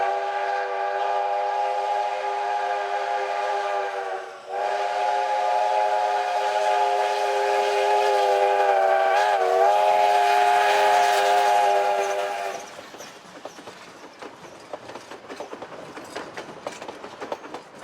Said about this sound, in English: engine 481, leading the first train, rolled through under threatening skies